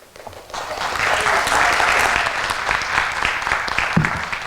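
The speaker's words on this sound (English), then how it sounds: "we cannot ever have too many applause on a night like this" Applause swells from a board of education meeting audience recognizing teachers and support staff of the year, building quickly after a quiet start into sustained, loud clapping from a large room.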